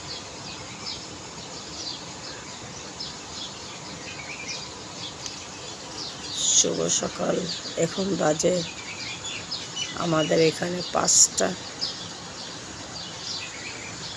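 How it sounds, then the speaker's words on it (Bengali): Birds calling at dawn under a full moon, thin chirps and tweets scattered steadily in the distance, with a person speaking over them partway through. "পাখিরা ডাকতেছে কলো কলো রবে"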